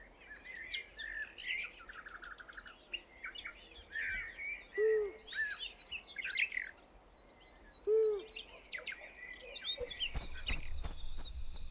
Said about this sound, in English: The small long-eared owls have grown.